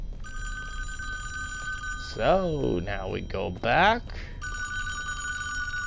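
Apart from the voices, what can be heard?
telephone ringing in Friday the 13th video game cabin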